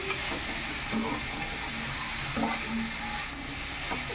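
Fenugreek leaf curry masala fries in a pan over low heat, a constant soft sizzle close by, broken by scattered scrapes and clicks of stirring.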